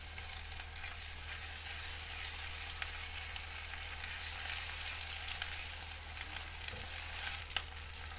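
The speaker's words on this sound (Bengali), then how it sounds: "এর মধ্যে দিয়ে দেবো আমি 1 চামচ রসুনের পেস্ট, 1 চামচ আদার পেস্ট। এটাকে দিয়ে আবার হালকা নাড়াচাড়া করতে থাকবো।" Ginger and garlic paste stirred into browned onions in hot oil for an okra masala, a steady close sizzle with faint spoon scrapes throughout, no talking.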